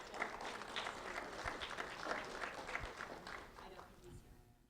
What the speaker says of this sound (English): a round of applause for Caden Toussaint,